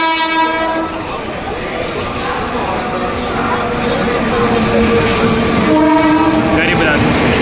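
A Garib Rath Express train pulls into a station with a loud, steady rumble of wagons and repeated horn blasts, the noise building as it arrives; a voice talks faintly over it.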